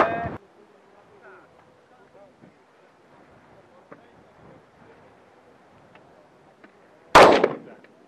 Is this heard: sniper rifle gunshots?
yes